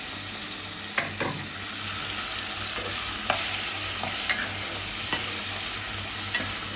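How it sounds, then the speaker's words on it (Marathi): Pumpkin, onion, tomato, potato and brinjal are stirred in a pot for sambar over a steady low sizzle, with a spoon knocking and scraping roughly once a second, close and without talk. "ह्याच्यात आपण भाज्या सगळ्या घालायच्या. भोपळा, कांदा, टोमॅटो, बटाटा, त्याच्यानंतर तुमचं वांग एखादं."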